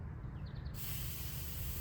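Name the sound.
Preval sprayer spraying paint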